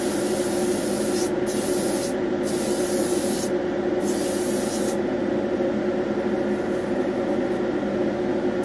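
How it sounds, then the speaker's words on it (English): An airbrush sprays a light grey Vallejo wash onto an HO scale model building, a steady close hiss running throughout with brief pauses near the start. "I'm going to spray on a little bit of Vallejo wash, the light grey, and that'll just grimy it up a little bit"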